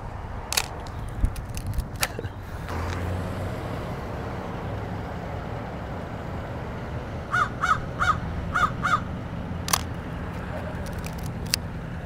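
A crow caws near a gate in a quick burst of several harsh calls, with a few scattered calls earlier, over steady outdoor traffic rumble.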